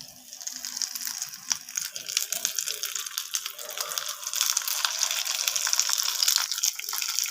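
Cauliflower paturi parcels fry in hot oil in a wok, a constant close sizzle and crackle with brief pops, growing denser and brighter toward the end.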